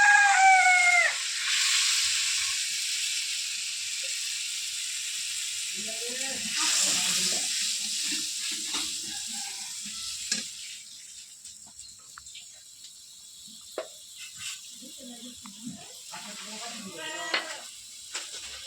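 Oil sizzles steadily in a wok as a chili-mustard paste hits it, the hiss fading to a softer crackle with scattered spatters and clinks.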